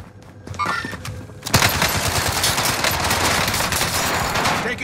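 Rapid gunfire in a Call of Duty: Modern Warfare multiplayer match: after a few scattered shots, a loud, dense burst of automatic fire starts and continues without a break, close and harsh.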